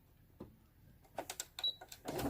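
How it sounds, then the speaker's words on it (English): A sewing machine runs a straight stitch along the edge of a paper pocket, giving several quick rhythmic bursts of mechanical clatter after a single soft knock, close and fairly quiet. "I'm just going to run a little straight stitch on the edge"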